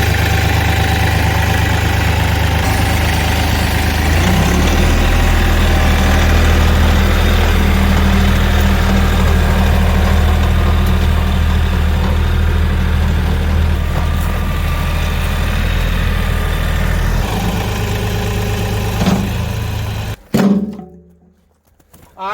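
A tractor engine idles in a steady, rumbling drone at close range, loud and continuous with a faint knocking texture, before cutting out abruptly near the end.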